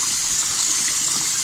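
Water gushes into a cooking pot over Cuban ajiaco vegetables and viandas, a steady, close, loud rushing pour with no talk.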